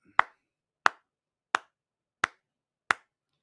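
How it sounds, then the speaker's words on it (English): A slow clap: five sharp, evenly spaced claps about two-thirds of a second apart, crisp and isolated with silence between each. "Slow clap."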